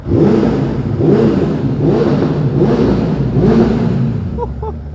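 A Suzuki Bandit motorcycle engine, restricted to 34 hp, revs repeatedly in loud, rhythmic surges, with a few sharp pops and crackles from the exhaust at the end.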